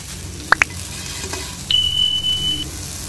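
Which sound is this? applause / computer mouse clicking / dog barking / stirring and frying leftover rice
stirring and frying leftover rice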